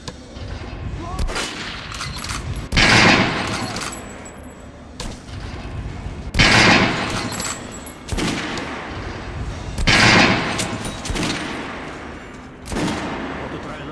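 Gunfire at a shooting range in the video game Metro Last Light, with repeated bursts of rapid shots in clusters separated by brief pauses, loud and close, with faint voices at times.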